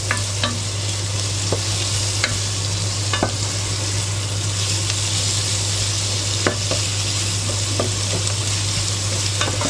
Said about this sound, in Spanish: le voy a añadir el jamón serrano y el chorizo que ya he cortado y al que le voy a dar nada, un par de vueltecitas